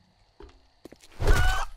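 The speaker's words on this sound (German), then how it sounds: "Oh, da haben wir einen Huhn." A chicken in the video game 7 Days to Die gives a few short clucks, then a louder, longer squawking burst close by, with no talking.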